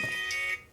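A phone rings with a bright electronic tone, a short burst of steady ringing that fades out quickly.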